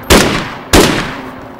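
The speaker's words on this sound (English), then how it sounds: "I'm shooting at some of the bushes, see if I can make a move." Two loud gunshots in the DayZ video game, about half a second apart, each a sharp close crack followed by a ringing decaying tail.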